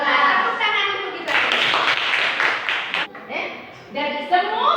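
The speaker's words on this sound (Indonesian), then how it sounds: "Tepuk tangan untuk kita." A group of children in a classroom claps hands together in a burst of applause, with young voices calling out over and around the clapping.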